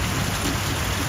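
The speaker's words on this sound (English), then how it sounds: "Bit of rain." Steady rain pours down in a dense, continuous hiss, loud and close, with no pauses.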